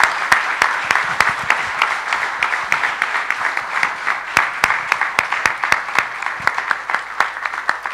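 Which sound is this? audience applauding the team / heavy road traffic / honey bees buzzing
audience applauding the team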